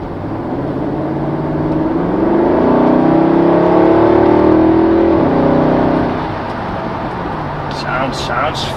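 A Mercedes SL63 AMG R230 with its naturally aspirated 6.2-litre V8, set to sport mode, revs up into a rising, sustained growl, holds it for a few seconds, then drops back to a steady idle.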